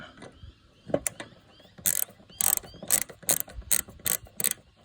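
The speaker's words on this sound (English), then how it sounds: "we'll just put them in there and tighten them up" A ratchet tightens bolts on a John Deere 100 Series mower deck spindle, close and loud, with bursts of rapid clicking strokes in a steady rhythm after a few quieter handling sounds.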